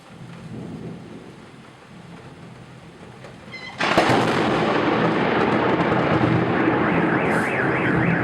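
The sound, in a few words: lightning strike bang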